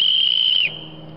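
A sharp, loud whistle is blown in one sustained high blast that drops in pitch and cuts off at the end, heard alone with no talking.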